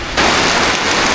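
Heavy rain falls on a farm house, starting abruptly and continuing as a loud, steady hiss of downpour on the roof and terrace, close and dense throughout.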